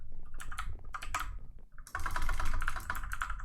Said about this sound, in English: if I want to use like a clicky keyboard, this works pretty well